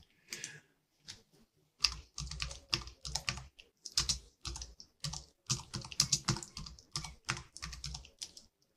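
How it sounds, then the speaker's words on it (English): Someone types on a computer keyboard in close, crisp bursts of rapid key taps, with brief pauses between the runs and no talking. "just let me type that in"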